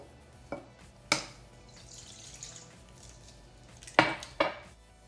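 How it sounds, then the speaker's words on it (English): Eggs cracked for pumpkin spice muffin batter in a home kitchen give a few sharp taps on a bowl rim, two near 1 and 4 seconds, with faint clinks and a soft drip between them. "I'm gonna get my assistant to crack the eggs."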